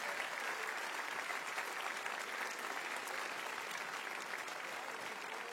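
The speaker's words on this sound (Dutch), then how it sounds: "geef ze nog eens een keer een groot applaus, de vakjury van vanavond" An audience at the Opus Jocus carnival song contest applauds the evening's professional jury, a broad, steady roar of many hands clapping that stays even and continuous from start to finish.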